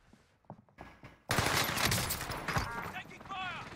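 Heavy gunfire erupts in Call of Duty on Rebirth Island, starting abruptly after quiet footsteps and light movement, then continuing as dense, loud bursts with voices calling out over the shooting.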